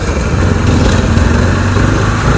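Overloaded auto rickshaws and other vehicles pass close by on a crowded road, a loud steady drone of small engines filling the whole stretch without pause.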